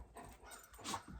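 Dog panting in quick, soft, rhythmic breaths, close by but faint, with no talk over it.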